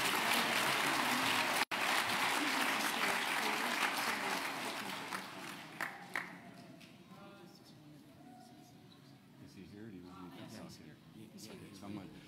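Audience applause at a state disabilities summit, loud and dense clapping from a large crowd that gradually thins and fades into scattered claps and room murmur.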